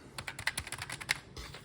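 Fingers type on the rubbery keyboard of a Visual 1083 Commuter computer, a quick close run of soft, muffled keystrokes in an irregular rhythm with no talk.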